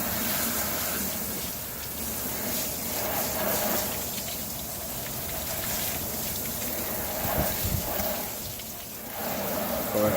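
Steady hiss of water spraying hard inside a car's wheel well with the tire on, continuous and close, with slight shifts in intensity and no clear talking.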